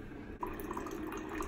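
Coffee maker dripping brewed coffee into its pot, a steady soft trickle with small drip plinks at close range, continuous throughout.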